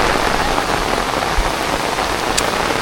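Heavy rain pours steadily on surfaces in rural Konkan during an evening downpour, a loud dense hiss with no break and no voices.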